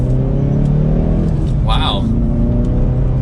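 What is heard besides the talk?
Hyundai Veloster N exhaust accelerating in sport mode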